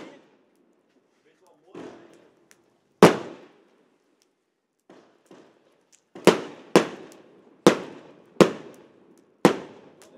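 Dumbum firecrackers explode during a New Year's fireworks session in Helmond, Netherlands. One loud, sharp bang is followed after a pause by a rapid series of five more close, heavy blasts, mixed with softer pops and rustles.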